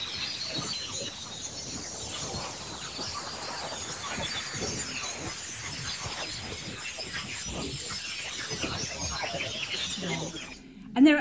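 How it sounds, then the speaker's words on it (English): Natural radio signals from the aurora borealis turned into sound: a faint, dense crackling hiss with scattered pops and clicks, steady throughout and alone, with a brief louder tone at the very end. "So this is the sound of aurorae here on Earth."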